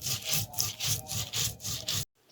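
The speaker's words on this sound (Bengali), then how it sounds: "এখানে সর্ষে আর কাঁচামরিচ বেটে নিচ্ছি।" Mustard seeds and green chilies are ground on a grinding stone, making about eight close, rhythmic back-and-forth rasping strokes that stop abruptly at the end.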